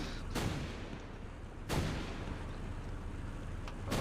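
Gunfire in the War Thunder combat game: three sharp, loud shots, one near the start, one midway and a fainter one near the end, over a steady low rumble of battle ambience.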